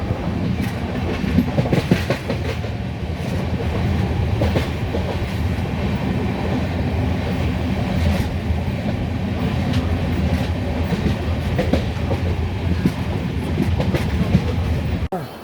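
Saraighat Express passenger train on the Howrah to Guwahati run, rolling steadily through hilly country, with a loud continuous rumble of wheels and carriages and faint rhythmic clatter throughout, no talking.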